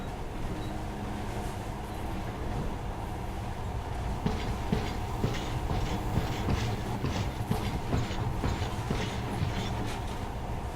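In the video game Metro: Last Light Redux, a monorail train rumbles along with a steady drone and a clattering rhythm of rail clicks that builds partway through, loud and continuous, with no speech.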